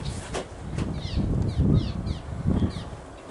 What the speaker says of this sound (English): that's them birds building their nests in there